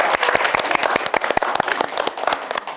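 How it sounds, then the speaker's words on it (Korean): An audience at a television talk show claps in sharp, distinct hand claps that blend into lively applause, close and fairly loud throughout. "우리 다시 한번 박수 보내드릴까요?"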